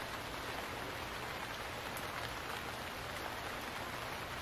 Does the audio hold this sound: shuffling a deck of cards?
no